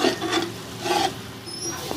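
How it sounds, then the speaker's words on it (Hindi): Onion paste fries in a pot with green chillies and ginger-garlic paste for beef trotters, a soft sizzle under repeated scraping strokes of a spoon stirring the mixture, close by and without talk. "इनको भी 2 से 3 मिनट मैं इसके साथ मज़ीद फ्राई करूँगी।"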